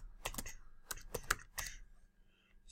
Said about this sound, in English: Put the little password in.